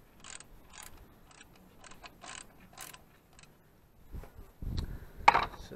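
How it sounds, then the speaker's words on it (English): A 15 mm socket and ratchet loosening the automatic belt tensioner on a 2008 Dodge Ram 1500, quick faint ratcheting clicks in short bursts, then a louder clunk and rattle of metal near the end. "I'm going to go ahead and take a 15 millimeter socket and"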